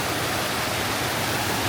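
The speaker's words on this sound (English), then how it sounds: "This is a totally different waterfall from the one that we had 2 days ago." Fairy Falls after Hurricane Helene flooding gives a loud, dense, unbroken roar of rushing water that fills the whole moment without any voices.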